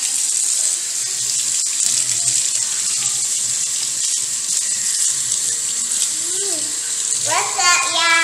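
A tap runs steadily with a constant hiss of flowing water, while a voice and another voice speak over it toward the end.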